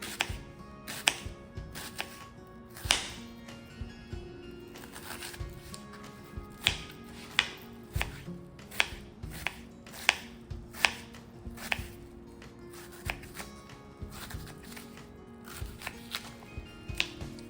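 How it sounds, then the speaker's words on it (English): Half of a large onion being chopped into small pieces with a knife on a cutting board, a steady run of sharp, close knocks coming in quick, uneven bursts with short pauses between them. "I'm just gonna chop it up like I always do, small pieces"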